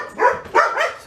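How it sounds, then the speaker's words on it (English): Several dogs bark excitedly in a quick burst of three loud, close yaps and yips, reacting to people walking past outside. "this is what happens when the dogs are over and they go crazy over people just walking by"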